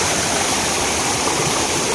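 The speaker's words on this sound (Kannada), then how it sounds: "ನೋಡಿ ಯಾವ ರೀತಿ ಬೀಳ್ತುಂಟಂತ ನೋಡಿ ನೀರು, ಹೈ ಫೋರ್ಸಲ್ಲಿ ಉಂಟು ನೀರು" A small stream in a village channel, water falling with high force, roars steadily and loudly, a continuous close rushing wash with no breaks or other sounds.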